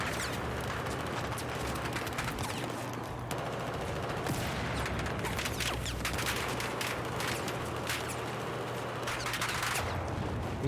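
Continuous gunfire in Battlefield 4 during a 32-versus-32 match, dense overlapping shots and bursts with distant explosions, loud and unbroken throughout.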